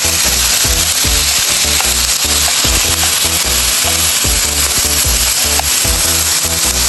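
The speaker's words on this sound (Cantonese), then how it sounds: "白鑊放落去煎" Pork ribs marinated with fine salt and a little oil sear in a dry wok, a steady loud sizzle with rhythmic low thumps of music or tapping running underneath throughout.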